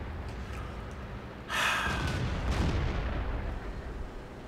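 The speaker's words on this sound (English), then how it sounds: "I got a KV-1 firing at me." Tank cannon fire during a World of Tanks battle, with a KV-1 heavy tank shooting: a sudden heavy boom followed by a long low rumbling roar that stays loud under steady background noise, no talk.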